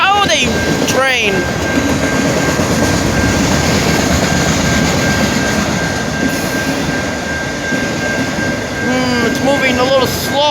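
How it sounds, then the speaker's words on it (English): A slow freight train pulled by four locomotives passes a road crossing with a loud, continuous rolling rumble and wheel noise, and horn-like tones at the start and end. "4 engines and it's moving not that fast from the looks."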